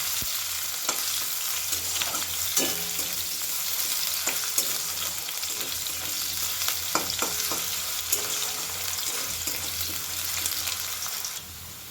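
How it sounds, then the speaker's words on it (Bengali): Cut potatoes fry on high flame in a pan over a spice tempering while being stirred. A steady close sizzle runs throughout, broken by regular clinks and scrapes of the spatula, with no voices. "আলুগুলোকে হাই ফ্লেমে একটুখানি লাল লাল করে ভেজে নেব।"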